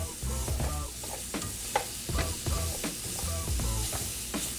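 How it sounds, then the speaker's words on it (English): Garlic, onion and peppers sizzle in a hot pan while a utensil stirs them, scraping and clacking in an irregular rhythm over a steady, loud frying hiss. "we're just gonna stir this up for about a minute"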